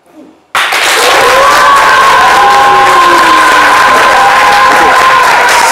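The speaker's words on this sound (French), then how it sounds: "je voudrais entendre votre énergie d'applaudissement" A French television studio audience on a midday talk show bursts into sustained applause and cheering after a brief quiet moment, loud, dense clapping with whoops continuing steadily to the end.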